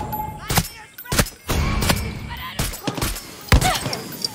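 Several gunshots ring out during a Far Cry 6 raid on the Libertad HQ, coming as sharp separate bangs and short bursts with uneven gaps, mixed with game effects.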